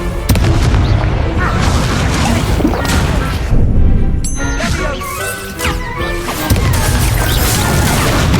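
Confringo and Incendio spell impacts in the Hogwarts Legacy video game, a dense run of loud booms, crashes and thwacks with brief sharp hits throughout, under a voice shouting spells.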